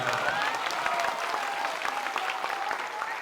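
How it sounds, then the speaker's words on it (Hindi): A crowd at an outdoor political rally claps in dense, steady applause that stays full and loud throughout, with a voice faintly audible underneath. "ताली बजावे से जान ना छूटी"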